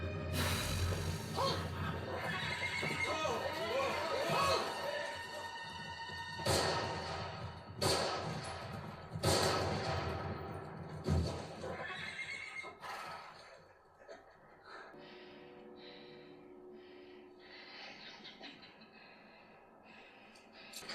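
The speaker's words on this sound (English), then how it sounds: "Hubler's running with a German officer on horseback was the most dramatic moment of the day" A horse whinnies loudly amid a dramatic wartime battle scene, with a German officer on horseback, thuds and crashes, and busy layered sound throughout.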